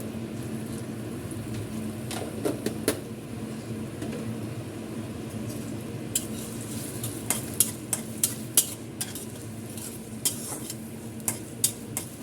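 Bitter gourd and prawns frying in a pan: a steady sizzle runs throughout, broken by repeated sharp clicks and scrapes of a spatula stirring against the metal, with no voices.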